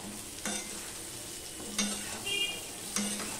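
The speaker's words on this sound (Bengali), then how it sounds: "এবার ঝিঙেটাকে আমি ভালো করে ভেজে নেব" Ridge gourd coated in gram flour fries in a pan with a steady low sizzle, broken by three spaced scraping strokes of a spatula, close and moderately quiet, with no speech.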